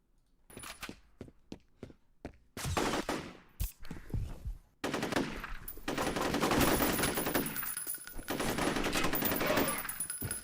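Gunfire from AI enemies in a shooter video game: scattered single shots and short bursts at first, then sustained heavy automatic fire that dominates the rest of the clip.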